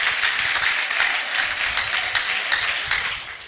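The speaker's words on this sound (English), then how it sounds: "Let's give him a round of applause." An audience at a school panel discussion applauds to welcome the panel chair, a dense burst of clapping heard at moderate distance and sustained for a few seconds.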